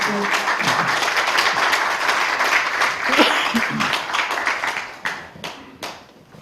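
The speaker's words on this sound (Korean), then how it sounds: "박수 인사해 주십시오" Applause from the congregation at a Korean presbytery meeting and installation thanksgiving service in a church, a dense sustained clatter of many hands that thins and fades toward the end.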